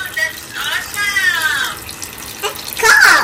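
Water runs from a tap into a hotel bathroom sink, a close gushing stream that swells toward the end, while a toddler and an adult talk over it.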